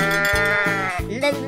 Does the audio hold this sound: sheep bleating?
yes